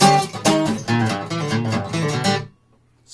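An electric guitar plays a short passage of a song, about two and a half seconds of rhythmic strummed chords, close and clear, ending abruptly in silence.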